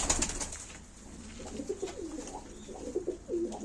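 A male Gökperçem pigeon, a Turkish breed of play pigeon, coos in a series of soft, throaty warbling calls, close and fairly clear over a faint background hiss.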